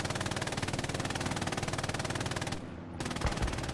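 Machine gun fire in a World War II video game match, a sustained rapid rhythmic stream of shots that briefly pauses and then resumes, loud and close with no talk over it.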